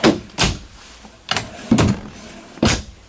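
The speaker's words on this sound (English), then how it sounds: "Full extension drawers all the way down. Two larger drawers here in the center." Solid hardwood full-extension drawers in a 2016 Forest River Berkshire XLT diesel RV slide and thud shut several times in uneven succession, close and fairly loud, with no talk over them.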